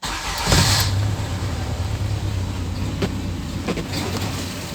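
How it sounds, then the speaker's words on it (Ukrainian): A Skoda Felicia 1.3 that runs on gas, with a throttle fault, cranks and catches, then settles into a close, steady engine hum with a couple of brief clicks. "Так, і пробуємо запустити автомобіль."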